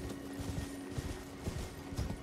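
A horse gallops in the video game Elden Ring, its hooves pounding a steady clip-clop rhythm against a dense, loud game soundscape with a constant low hum and no speech.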